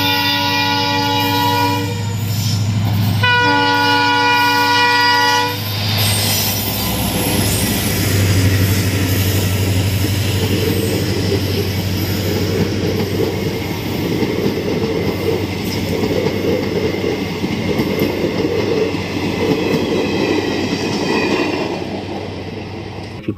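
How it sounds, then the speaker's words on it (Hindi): Cartoon train sounds its horn in several loud, harmonic blasts, then rolls on with a rumbling, rhythmic clatter that holds steady, a continuous low drone underneath. "वाह ये है टॉम ट्रेन गाड़ी"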